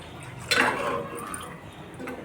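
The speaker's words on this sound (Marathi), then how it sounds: "आणखीन थोडं टाकूया." Water poured from a pot into a simmering vam (eel) fish curry, a short splashing pour that swells then settles into a low liquid rumble.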